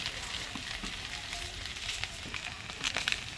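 Spices fry in oil in a pan with salt, turmeric and garlic, giving a steady close sizzle and crackle with soft stirring scrapes throughout, and no voices.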